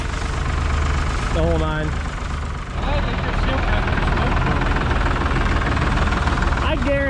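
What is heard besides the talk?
farm tractor engine running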